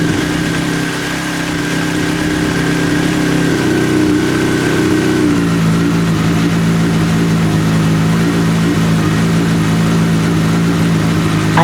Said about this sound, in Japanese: バランサーの調整をしてないからノイズがでかいけど、まあ無事に動いてるっぽい。